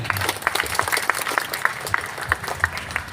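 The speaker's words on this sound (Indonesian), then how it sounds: "Tepuk tangan" A crowd at a Maulid Nabi gathering breaks into steady applause, dense overlapping claps sustained throughout, moderately loud and fairly close.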